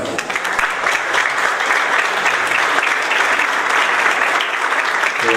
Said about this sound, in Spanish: le pido un aplauso